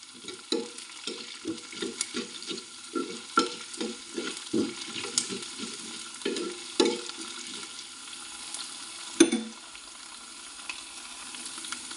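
Onion, ginger and garlic sizzling in a pan for a Kerala moru curry, with a steady run of rhythmic stirring scrapes, about a dozen strokes at an even pace, close and moderately loud with no voices.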